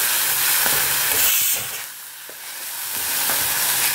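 Onion paste fries in a pan over a low gas flame, giving a steady close sizzle and hiss with occasional scraping stirs and a brief dip in the middle.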